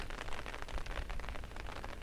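Light rain falls steadily on a hilltop viewpoint during the rainy season, a soft, dense patter of drops heard up close with no voices.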